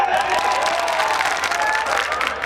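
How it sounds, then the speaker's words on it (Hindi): Audience applause and cheering at a live qawwali competition, dense steady clapping filling the whole moment, loud and close. "क्या बात है, क्या बात है, ताली बजाओ उसके।"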